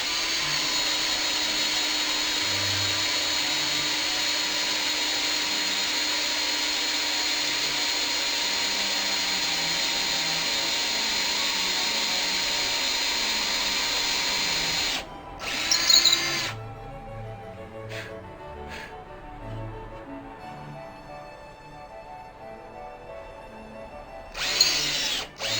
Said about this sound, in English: I will start drilling the hole for the new dowel that we're going to install underneath the wood